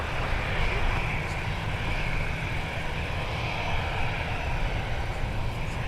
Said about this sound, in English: runway 30 left, clear for takeoff.